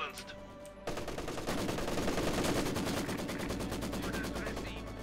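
Rapid bursts of Maxim machine gun fire in a video game, a dense rattling stream of shots that runs steadily for several seconds after a quieter opening.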